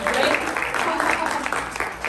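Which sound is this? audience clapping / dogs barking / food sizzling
audience clapping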